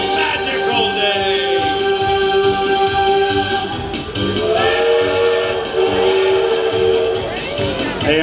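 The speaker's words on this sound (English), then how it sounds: "That is the Walt Disney World steam train." Walt Disney World steam train whistle at Magic Kingdom, Florida, sounding as long sustained tonal blasts over a busy outdoor crowd and amplified show music.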